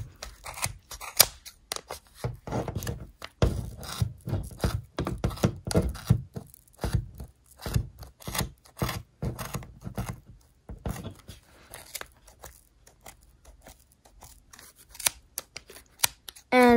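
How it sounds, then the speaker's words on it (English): Scissors snipping repeatedly through soft, fluffy yarn strands while making a faux cables hat, a close series of crisp cuts with brief pauses and soft handling rustle between them. "I can just run my scissors right through"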